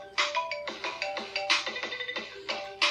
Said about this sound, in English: As you can see, remix is the ringtone what we just downloaded.